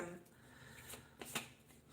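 Tarot cards being shuffled by hand in quick, papery riffles and flicks, with sharper bursts near the middle and end, heard close over a low background voice.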